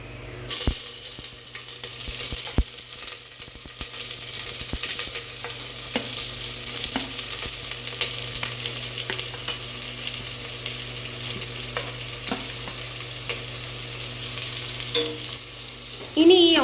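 Chopped onions sauté in oil for a vegetable biryani, a steady close sizzle punctuated by clicks and scrapes of stirring, with a louder clatter at the start and end.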